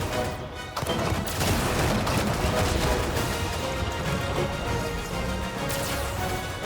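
Blaster fire from a Star Fox game streams out as rapid, dense shots. The bursts crackle continuously and loudly for several seconds, over busy game action.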